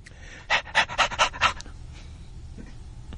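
A man imitates a panting dog with a quick run of about six loud, rhythmic huffing breaths in a row, then falls quiet under a low background hum.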